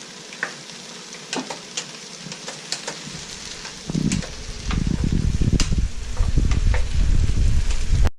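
Onions and garlic fry in a pan, faint crackles at first, then a sudden loud, steady sizzle that fills the rest, close and without voices.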